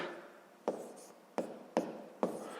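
Pen or pencil writing decimal numbers by hand, heard as four sharp tapping strokes with soft scratching in between, close and quiet, with no voice.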